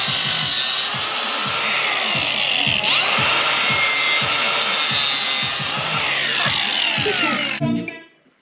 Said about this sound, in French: je vais recouper ma petite barre en métal